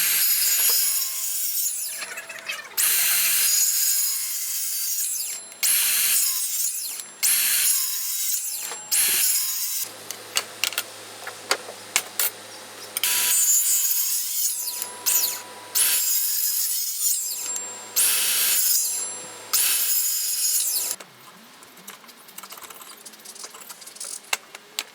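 Wood strips for a spinning hoofstock enrichment feeder are cut and chiselled by hand, with long bursts of rasping, scraping strokes, short pauses, and occasional knocks, close and loud.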